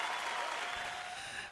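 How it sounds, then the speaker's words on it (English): Steady applause with a hint of crowd noise, mid-distance, sustained without a break. "Where's the applause? Applause! Applause!"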